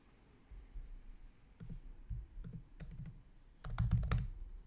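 Quick bursts of keystrokes on a computer keyboard while writing code, soft and close, with faint keys at first and a denser flurry of typing near the end.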